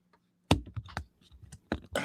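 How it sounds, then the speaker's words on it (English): Typing on a computer keyboard close to the microphone gives a quick, uneven run of sharp key clicks and clacks, with a few louder strikes. "let me just get situated so I can start typing"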